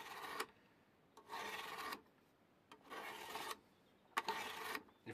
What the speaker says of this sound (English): Hold the right edge and sharpen your knife